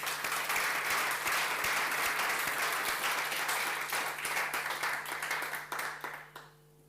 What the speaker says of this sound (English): A round of applause for all of the presenters